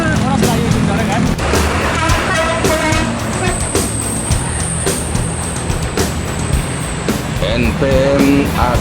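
An intercity air-conditioned bus drives along a road in Indonesia, its engine rumbling loudly with passing traffic, a high whine and occasional horn toots, while people talk over it.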